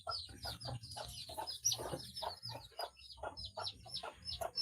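Several chickens cluck and murmur continuously nearby, with overlapping short calls and occasional chirps, fairly quiet with no talking.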